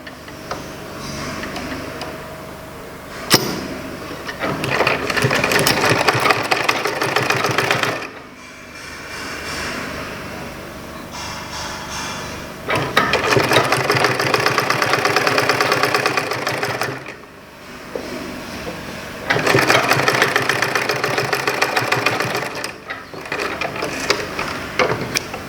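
Sewing machine stitching a shirt yoke to the back piece, running in several bursts of rapid, even needle clatter separated by short pauses, close and clear.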